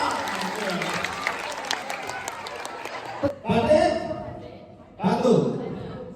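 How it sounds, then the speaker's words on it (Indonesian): Audience applause at an expert lecture marking a nursing college anniversary in Surabaya, a crowd clapping in steady dense bursts with brief pauses, mixed with chatter and a few chuckles. "Tepuk tangan untuk kita semua."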